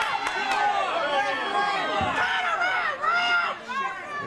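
A wrestling crowd at an NWA match roars and jeers loudly and steadily at the referee, a dense wash of shouting voices filling the arena throughout.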